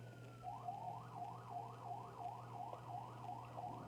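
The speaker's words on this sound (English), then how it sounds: "Happy sirens going by." An emergency vehicle siren passes by, a repeated rising and falling wail cycling roughly twice a second, faint and distant over a constant low hum, with no talk.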